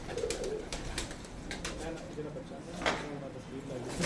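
Pagal Topi breed pigeons coo softly and repeatedly nearby while someone talks over them.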